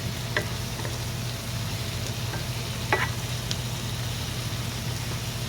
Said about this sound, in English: I'm going to add my shrimp. Then I will cook for a little bit.